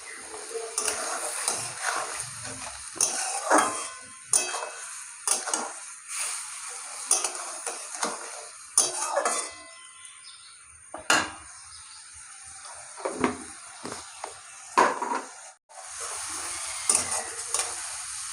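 Spice paste for a mourola fish curry being stirred and fried in a pan, with repeated scraping and clattering strokes of a spatula over a crackling sizzle, with brief pauses between bursts of stirring.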